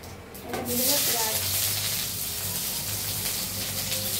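Onion frying in oil with cumin seeds gives a steady, close sizzle that swells after a brief spoken word at the start and carries on evenly to the end.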